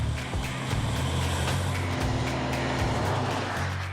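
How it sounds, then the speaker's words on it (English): A Ford F-150 pickup tows a trailer of a little over 11,000 pounds up a 7% grade, its engine a loud, steady drone that shifts pitch now and then, sounding close and continuous. "They test the truck at its max towing weight going uphill."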